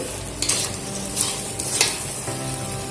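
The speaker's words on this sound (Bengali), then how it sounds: "পরিমাণ মতন গুড় দিয়ে দেওয়ার পর ভালো করে কুলের সঙ্গে মিশিয়ে নিচ্ছি।" Jujubes and jaggery get stirred together in a pan: a close, continuous sizzle with several scraping strokes of the utensil, fairly loud and with no voices.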